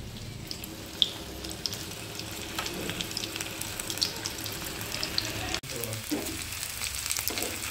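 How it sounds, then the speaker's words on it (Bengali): Paneer pieces coated in gram flour fry in hot oil with a steady, dense crackling sizzle close by, continuing throughout with a brief dropout near the end. "তেল অলরেডি চলে এসছে, পনিরগুলো একটা একটা করে ছেড়ে দিচ্ছি"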